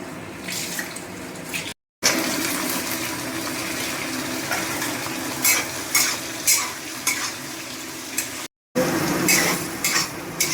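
Ginger, garlic and onion paste frying in a pan for red chicken curry, a loud continuous sizzle with rhythmic spoon scrapes, broken by two short silent gaps, no voices.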